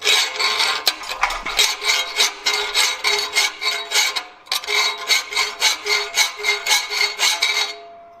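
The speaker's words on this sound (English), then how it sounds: "it almost sounds like this file is skating across the actual material" A metal file rasps across unannealed plasma-cut mild steel sheet in steady back-and-forth strokes, a bright, high-pitched scraping repeated about a dozen times with a short pause midway.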